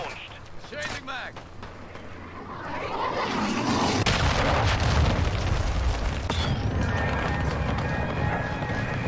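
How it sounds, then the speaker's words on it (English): A cruise missile explodes in Modern Warfare 2 multiplayer. A deep, sustained rumbling boom builds and holds loud for several seconds, after earlier game sounds and a voice. "Hostile cruise missile launched."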